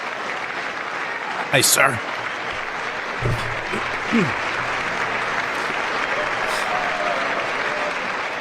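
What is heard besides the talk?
audience applause during State of the Union address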